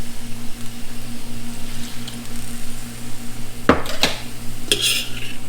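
Chow mein noodles with meat and vegetables get stirred in a hot pan, a soft sizzle running underneath as a utensil scrapes and clinks against the metal a few times, close and alone.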